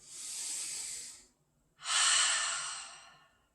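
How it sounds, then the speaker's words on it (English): Two long, deep yoga breaths, a steady airy inhale followed by a pause and a stronger exhale, close and clear with no talking. "Nice deep breath in."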